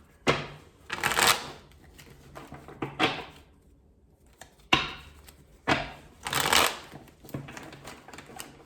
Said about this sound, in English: These cards do not want to shuffle right.